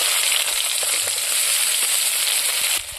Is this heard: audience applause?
no